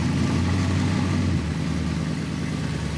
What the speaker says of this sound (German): Doch wenn ihre großen V8-Motoren zum Leben erwachen, sind sie nicht zu überhören.